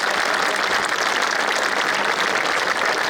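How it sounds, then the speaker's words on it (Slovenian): A crowd at a military battalion anniversary ceremony claps steadily and evenly, a dense wash of applause filling the whole stretch without pauses. "pa zaploskamo tako"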